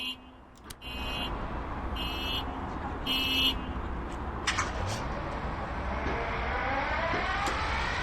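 A diesel locomotive engine in Train Sim World 3 cranks and starts up, settling into a steady low rumble that holds throughout, with a few short buzzer-like tones near the start.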